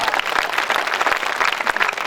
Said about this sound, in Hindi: ताली वाली बजाओ एक बार के साथ।